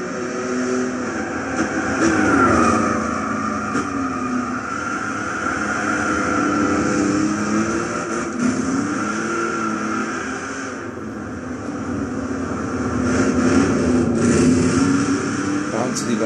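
A 1970 Dodge Charger 440 R/T with no supercharger races around Tsukuba in Gran Turismo 6, its engine droning and rising and falling steadily under continuous talk.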